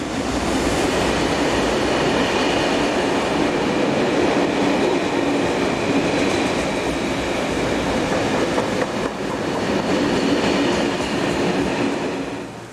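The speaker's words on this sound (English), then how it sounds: "Here 11184 and 11661 share power on this northbound intermodal." A northbound intermodal freight train double-headed by locomotives 11184 and 11661 passes on a four-track main line, a loud, continuous rumble of wheels and wagons holding steady for the whole span.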